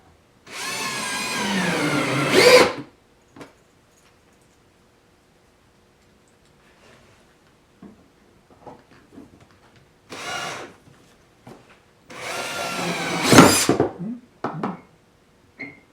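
A power drill drives screws into wood on a workbench sanding station, in three separate whirring bursts of about two seconds each, close and loud, with faint clicks and handling noises between them.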